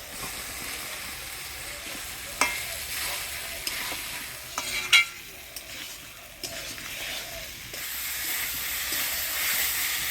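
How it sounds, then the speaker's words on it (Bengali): Boiled elephant foot yam frying in spice masala, a continuous sizzle broken by several sharp spatula scrapes and clinks against the pan, the hiss swelling louder toward the end. "মশলার সাথে ওলকচু দিয়ে ভালো করে কষাই নিলাম"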